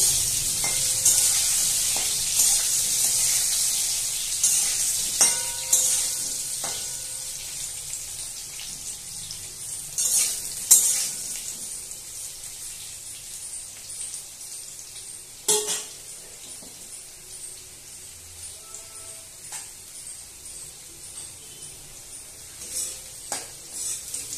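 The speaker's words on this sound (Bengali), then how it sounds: "আবার একবার উল্টোটাকে ভেজে নিচ্ছি।" Softened potato pieces fry in a pan for Bengali shukto, a gentle continuous hiss of oil with scattered spatula taps and scrapes as they are turned, fairly close and without any voices.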